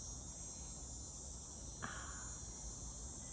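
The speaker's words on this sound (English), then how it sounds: "I didn't know the cicadas were still out." Steady high-pitched cicada buzzing fills the background outdoors, constant and fairly faint, with a brief soft click partway through.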